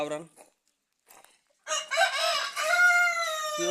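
Desi country chickens at a village poultry farm: a few short clucks, a pause, then a loud nearby rooster crows in a long drawn-out call.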